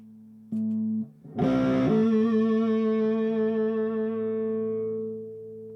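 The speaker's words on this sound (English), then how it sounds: "Try the overdrive." An electric guitar on the bridge pickup through an Ashdown G40R amp's overdrive channel, set at 12 o'clock, plays a couple of short notes, then strikes a gritty chord that rings out and slowly fades.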